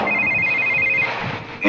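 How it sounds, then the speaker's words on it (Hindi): A telephone rings with an incoming call, a steady electronic ring with repeating tones that is loud and close, with room noise around it and no talk over it. "ये ले, तारे बाप ने फोन मिला दिया"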